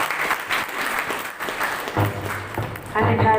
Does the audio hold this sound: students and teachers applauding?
yes